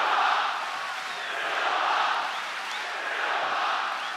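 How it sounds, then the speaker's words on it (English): A large arena crowd at a UFC event in Melbourne chants in rising and falling waves, a distant, rhythmic roar of many voices swelling and easing several times. "I believe I'm hearing Silva chants here in Melbourne."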